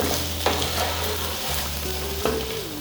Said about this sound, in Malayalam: ഇനി നമുക്ക് നന്നായിട്ട് വീണ്ടും ഇളക്കി കൊടുക്കാം